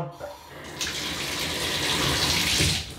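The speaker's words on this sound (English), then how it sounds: "When you turn the water on." A household tap turned on in a plumbing setting sends a steady rush of water into a sink, loud and continuous for about three seconds after a brief quieter start.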